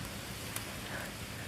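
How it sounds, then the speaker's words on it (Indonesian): Rain falls on a steep mountain hiking trail on Mount Burangrang, a soft, steady hiss of drops that stays faint and even throughout, with no voices. "Basah hujan."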